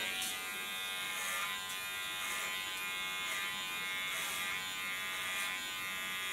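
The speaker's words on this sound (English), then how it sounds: "there I go in with my clipper" An electric hair clipper buzzes steadily and close up as it cuts hair during a side and nape shave, its hum pulsing slightly with each pass and no talking over it.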